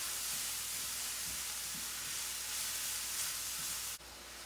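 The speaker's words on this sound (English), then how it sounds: "I'm just going to cook it down a little bit further." Vegetable filling for egg rolls cooks down in a pan with a faint, steady sizzle and hiss, broken by a few soft stirring taps. There is no talking.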